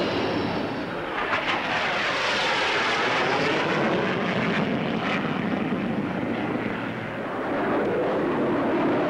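Jet aircraft in a flying demonstration at the 1955 Farnborough Air Show, a loud continuous roar that swells as it passes and then eases slightly, with no speech.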